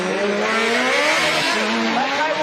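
A Lamborghini time attack car launches hard off the line at a motorsport time attack event, its engine screaming and rising in pitch over a brief stretch of tire noise, loud and close throughout.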